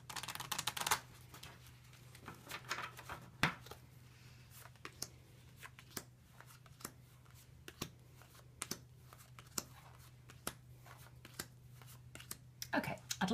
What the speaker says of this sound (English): I've got a pack of cards here. I'm just going to shuffle them so they're all mixed up.